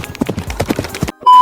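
Two coconut halves banged together mimic a galloping horse for a film sound effect, a rapid, loud, close run of hollow clip-clop knocks that stops abruptly, followed by a steady tone.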